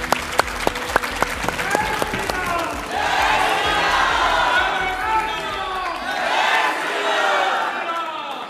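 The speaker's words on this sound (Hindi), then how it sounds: "और अब तालियां।" Studio audience at a televised Hindi debate show breaks into loud, sustained applause with cheering after a team's win, opening with a few sharp claps before swelling into a dense, steady roar.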